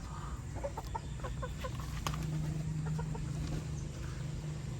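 Chickens, including black check fowl, cluck softly in short repeated bursts at a moderate distance over a steady low background hum, with no voices heard.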